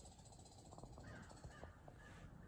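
A crow caws several times in quick succession from the woods around a hunting tree stand on a November morning, fairly close and clear over quiet outdoor ambience.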